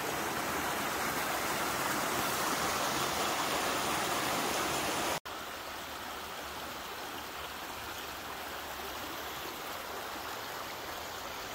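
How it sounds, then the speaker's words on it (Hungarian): Spring-fed streams babble near Jósvafő, a steady close rush of running water that continues throughout, briefly cutting out midway and resuming slightly softer, with no voices. "És mindenfele itt csörgedeznek a patakok."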